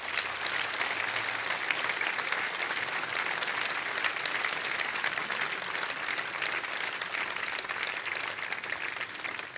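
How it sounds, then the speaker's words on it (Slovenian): Dense, sustained applause from a large audience at an outdoor summer evening concert by a wind band, an even wall of clapping lasting about ten seconds. "En velik aplavz za tole gesto."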